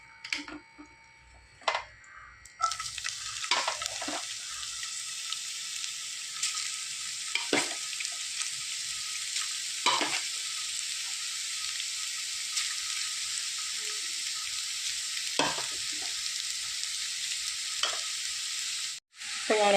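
Bitter gourd mixed with coconut, green chilli and onion is stir-fried Kerala style. After a few light knocks, a loud steady sizzle starts and holds, with scrapes and stirs at intervals, close up.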